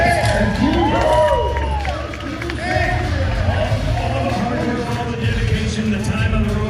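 A large crowd at the Redcrest 2022 bass fishing tournament's championship stage cheers and murmurs, a dense babble with scattered claps and whoops, while a voice carries over it through loudspeakers.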